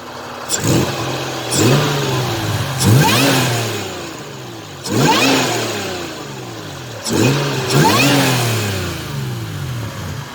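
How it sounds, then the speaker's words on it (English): A supercharged Toyota Tacoma S-Runner 5VZ engine with stock intake revs up repeatedly, each rise climbing to a whining roar before dropping back to a rough idle, heard close by. "Here is a quick sound clip with the stock intake."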